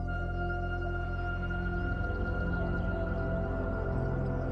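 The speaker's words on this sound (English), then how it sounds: "This is the cry of the howler monkey, known as alouatta." Howler monkeys in the Amazon canopy at dawn make a deep, droning roar that holds steady and loud, layered and resonant throughout.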